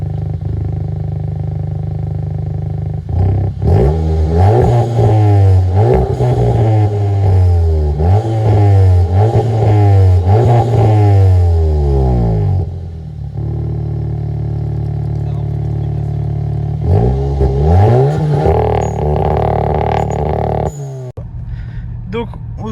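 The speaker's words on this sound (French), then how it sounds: "on passe au son à l'échappement" A Golf 7 GTI TCR with a 350 hp engine revs hard in a long run of rising and falling exhaust sweeps, loud and close, then cuts out and fires up again in a shorter burst near the end.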